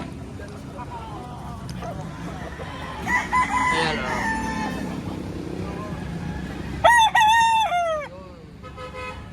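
A rooster crows loudly near the end, with clucking chickens and brief speech earlier amid outdoor background noise at a poultry market in Lipa, Batangas.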